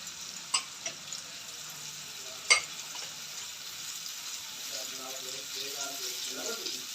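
Onion and tomato paste with fried garlic and ginger sizzling softly in a pan for a mangochiyan recipe, a steady low crackle with a few clinks of utensils and a faint voice underneath.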